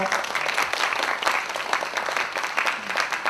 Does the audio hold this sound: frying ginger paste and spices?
no